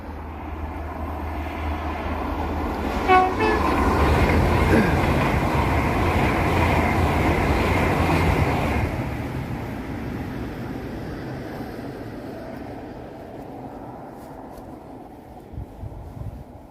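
A fast train passes a country lane crossing, its rumble swelling over a few seconds, peaking with loud rolling clatter, then fading away gradually into the distance.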